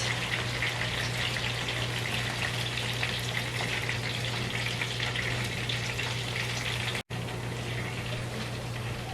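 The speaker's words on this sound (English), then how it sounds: "And I'm going to dip it in and then start cooking it." A salsa-dipped tortilla cooks in a pan for enchiladas Michoacanas, giving a steady broadband sizzle with a low hum underneath. It runs evenly throughout, apart from one brief dropout near the end.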